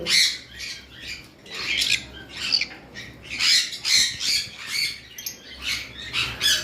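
A pair of violet lovebirds squawks repeatedly at close range, harsh bursts of calls coming one after another with no pauses and no talking.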